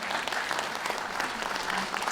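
Applause from an audience at a dog grooming demonstration honoring a champion groomer, steady dense clapping throughout with a faint murmur of voices underneath.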